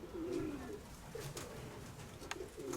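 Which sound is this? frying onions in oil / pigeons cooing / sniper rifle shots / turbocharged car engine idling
pigeons cooing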